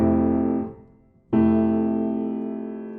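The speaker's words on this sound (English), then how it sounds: "right off the bat, we're going to learn something called open voicings." A piano chord in open voicing rings out and fades, then a second full chord is struck and sustains, rich and close with no talking.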